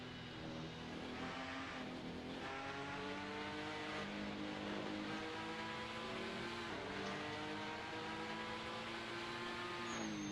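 A Porsche GTD race car in an IMSA sim race at Spa-Francorchamps gives a continuous, fairly faint engine whine. Its pitch climbs and shifts through gear changes, with no talk over it.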